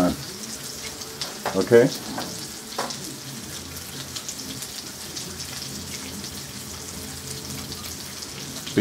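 Salmon pieces fry in a pan with a continuous crackling sizzle, like light rain, and a few louder clatters early on, while a voice briefly speaks.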